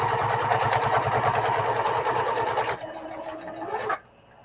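A sewing machine stitches fabric in a fast, even mechanical whir with rapid rhythmic needle ticking, close and loud, slowing briefly before stopping abruptly near the end.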